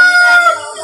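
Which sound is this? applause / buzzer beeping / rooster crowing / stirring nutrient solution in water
rooster crowing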